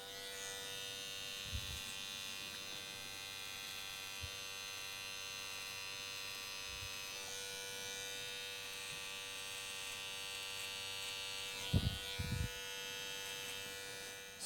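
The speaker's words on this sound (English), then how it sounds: "on the bottom, we're going to just shave in an upward motion" An electric hair clipper buzzes steadily as it shaves upward on a client's head in a barbershop, a close, even drone with a few brief knocks and handling noises, no talk.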